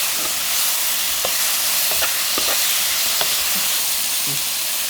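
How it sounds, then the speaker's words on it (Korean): Seasoned eggplant side dish being stir-fried in a pan, a steady broadband sizzle with scattered clicks and scrapes of a utensil stirring, close and continuous with no talking. "충분히 볶아주세요."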